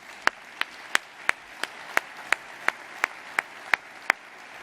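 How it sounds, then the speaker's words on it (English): Steady, evenly spaced single claps, about a dozen in under five seconds, ring out at a trade association conference's closing general session, sharp and moderately loud with no talk. "He deserves a big round of applause."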